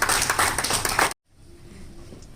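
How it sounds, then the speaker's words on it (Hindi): Audience applause at a film launch event bursts out as dense clapping for about a second, then cuts off abruptly into quieter room tone. "तालियां।"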